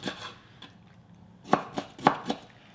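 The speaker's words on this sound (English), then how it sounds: "Just chop this into small pieces." Kimchi chopped into small pieces on a cutting board, a few soft knife knocks early, then a cluster of four sharper chops near the end, fairly quiet and close, with no talking.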